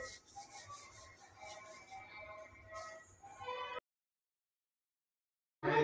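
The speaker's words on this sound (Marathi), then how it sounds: "मैद्यामध्ये आपल्याला कसुरी मेथी टाकायची आहे अशी चुरून" Dried fenugreek (kasuri methi) leaves are crushed by hand into flour, a soft, close rustling and crumbling for several seconds, then silence before a brief louder burst at the end.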